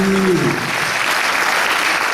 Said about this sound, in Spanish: Son esos aplausos para las chicas, sí, las chiquitas de Almologa, sí.